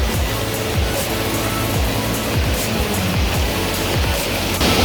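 A waterfall in Munich gives a steady, dense roar of rushing water that holds loud and even throughout, with no voices.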